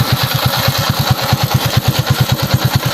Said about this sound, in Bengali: দেখতে পাচ্ছেন, আমরা যদি স্টার্ট করে সাউন্ডটা দেখাই